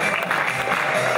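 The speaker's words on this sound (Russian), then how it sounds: "аплодисменты" An audience at a KVN comedy show claps in a dense, steady burst of applause, and crowd noise swells under it.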